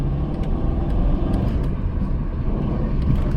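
A 1993 Dodge Caravan with a 5-speed manual gearbox drones on the move, a steady low engine rumble with road noise heard from inside the cabin.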